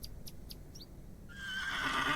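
A horse whinnies in an old-fashioned point-and-click horror adventure game, a rising, strained neigh that swells in the second half over quiet ambient game sound, preceded by a few short faint chirps.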